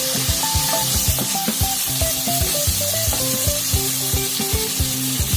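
Onions fry in a pan with a steady, bright sizzle, with faint stirring accents. Melodic background music plays underneath.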